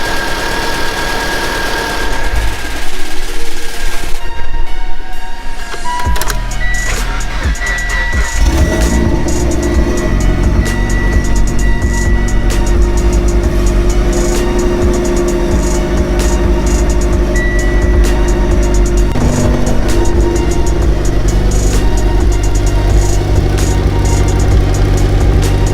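Mitsubishi Evo X engine running in a shop in winter, a loud deep steady idle with a rough, vibrating rumble that carries on for the whole stretch after some shifting noise at the start.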